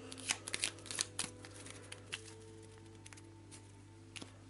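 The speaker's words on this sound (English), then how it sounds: "We'll give it a shuffle. I've already shuffled it, but we'll give it a further crappy shuffle." Event cards from a board game deck are shuffled by hand, a quiet, close run of soft riffling and flicking bursts with a faint steady hum behind.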